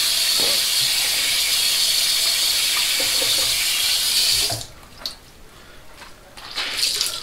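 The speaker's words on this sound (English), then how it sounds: "I'm going to use some cold water now." Cold water runs steadily from a bathroom tap into a sink during a shave with a Merkur 37C safety razor, a loud hissing stream for several seconds that then stops, leaving faint splashes and drips.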